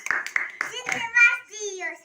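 A few quick hand claps ring out for a child after blowing out birthday candles at a home birthday party, close and mixed with a child's and an adult's voices talking.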